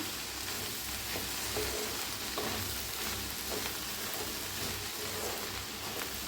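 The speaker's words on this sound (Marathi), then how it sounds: "आता घालूया इथं कांद्याची पात, मिक्स करूया।" Spring onion greens with dal fry and are stirred in a pan for a Maharashtrian bhaji, giving a steady, close, even sizzle throughout with no talking.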